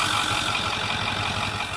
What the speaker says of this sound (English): Let's go back to the engine here. You can hear it's just humming along beautifully.